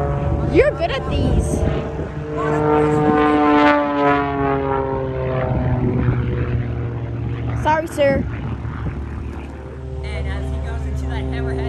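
A propeller aerobatic airplane at the Aero Gatineau-Ottawa airshow, its engine droning and rising and falling in pitch as it maneuvers, loud and sustained, with people talking over it.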